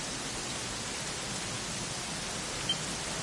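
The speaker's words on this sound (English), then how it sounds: "it was raining like this" Rain falls steadily in the video game Dragon Quest XI, an even, continuous hiss with no breaks or other sounds.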